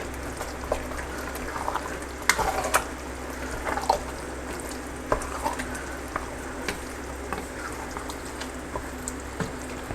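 Crawfish tails stirred into a sizzling étouffée pot, a steady frying hiss under soft scattered spoon clinks and scrapes at close range.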